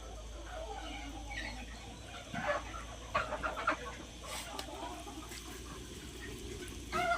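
Free-range chickens cluck steadily over a low rumble while eating fly larvae, with a few sharper bursts of activity standing out now and then.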